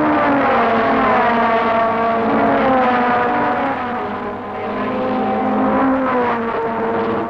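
Formula One cars, a Lotus Climax leading a Brabham Climax, race past at a Grand Prix, their engines a loud, sustained high-pitched scream that rises and falls in pitch as they accelerate and sweep by close at hand.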